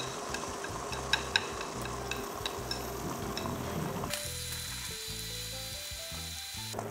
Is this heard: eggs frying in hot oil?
yes